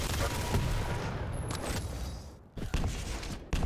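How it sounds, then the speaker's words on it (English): Rapid automatic gunfire from a machine gun in a Quake Pro League match, a dense continuous rattle of bursts mixed with other game effects, loud throughout with brief dips near the middle and end. "Machine gun MG"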